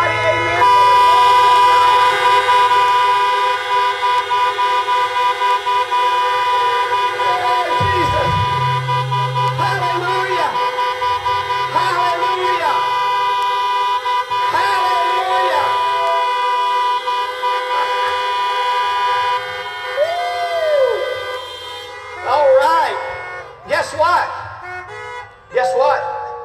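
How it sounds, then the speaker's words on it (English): Many car horns honk together at a drive-in Easter Sunday church service, a dense sustained chorus of steady tones with a lower horn joining partway and scattered short toots near the end. "Honk your horns for a mighty amen."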